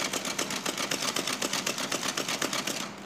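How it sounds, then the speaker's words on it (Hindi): A sewing machine stitching a plastic poly bag runs in a fast, steady rhythmic chatter of needle strokes, close and even, easing off at the end with no talking over it. "ये देखिए जैसे जैसे सिलाई हो रहा है आप हल्का सा मोड़ लें फिर सिलाई करें।"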